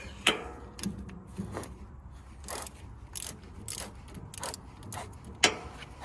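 Bolts being loosened on a firewood processor with a ratcheting tool: irregular bursts of sharp metallic clicks and ratchet rattles, close by, separated by short quiet gaps, with one louder clank near the end.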